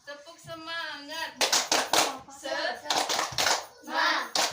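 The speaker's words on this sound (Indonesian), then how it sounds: "Tepuk semangat." Schoolchildren in an Indonesian classroom perform a rhythmic spirit clap, loudly chanting together before breaking into bursts of sharp, patterned clapping close by.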